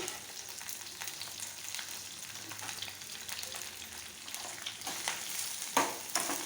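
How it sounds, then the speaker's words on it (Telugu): Onions, dried chilies and garlic fry together in oil in a pan, a soft continuous hiss with light stirring scrapes and a couple of sharper knocks near the end, quiet and close. "ఉల్లిపాయలు ఈ ఎండుమిర్చి వెల్లిపాయలు అన్నీ వేసుకొని ఇవి బాగా ఫ్రై చేసుకోవాలి"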